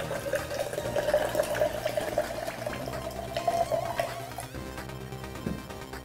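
Apple juice poured into a cocktail glass over Midori, a steady close trickle of liquid that runs for about four seconds and then tapers off.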